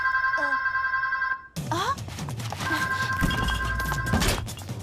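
An old-style telephone bell rings in a French cartoon, a steady electric trill that cuts off abruptly and then starts again, loud and close, with cartoon voices and effects around it.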